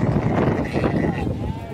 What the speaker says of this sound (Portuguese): Ô, Vidinho, esse bode tem mais ou menos quantos quilos um bode desse aí?